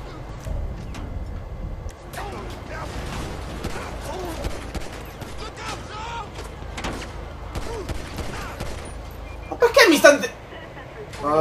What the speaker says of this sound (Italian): Perché mi stanno sparando?